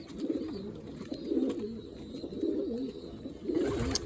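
Pigeons coo in repeated rolling phrases, about four bouts spaced roughly a second apart, close by with faint background noise.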